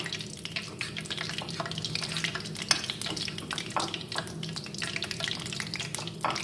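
Marinated fish is stirred with a spoon of corn flour in a bowl, giving wet, sticky squelches and soft clicks in an irregular rhythm, close and fairly quiet, with no talking.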